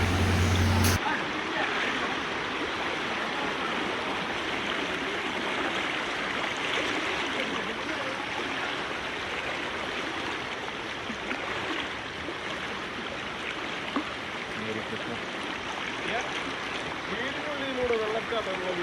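Floodwater pours through a house, making a continuous, loud, rushing flow like a stream that holds steady throughout.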